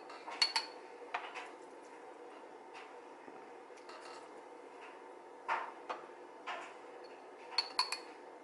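Light clinks and taps of a spoon against glass jars while filling them with hot rhubarb chutney, scattered and irregular, fairly close, with a quiet steady background and no talking.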